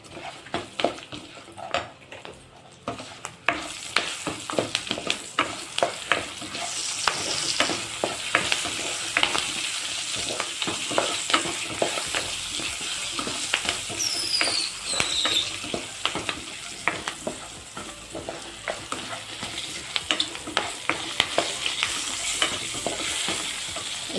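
Green chillies sizzle and fry in a pan for a paneer curry while a spoon stirs and scrapes, producing a steady close crackle broken by repeated clinks and scrapes against the pan.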